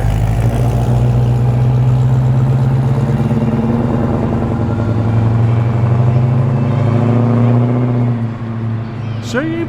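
A Holden Commodore Calais pulls away from a car show in Penrith, its engine giving a loud, steady low rumble close by that holds throughout and eases off near the end as the car drives away.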